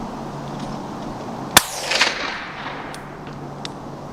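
A single sharp .22LR rifle shot cracks out close by on a long-range shooting setup, with a brief trailing rattle and echo fading into outdoor ambience.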